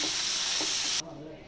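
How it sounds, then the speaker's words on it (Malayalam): Chopped tomatoes hit hot frying masala for a steamed hamour fish dish, giving a loud, broad sizzle that lasts about a second and then cuts off abruptly, leaving faint background noise. "ഇതിലേക്ക് നമ്മൾ അരിഞ്ഞു വെച്ചിരിക്കുന്ന രണ്ട് തക്കാളിക്ക ഇട്ട് കൊടുക്കാം."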